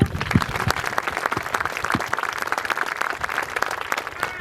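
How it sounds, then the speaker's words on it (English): An audience at a middle school class ceremony claps together in a steady round of applause, a dense patter of many hands that stays fairly even throughout with no talk over it. "Please join me in a round of applause for them."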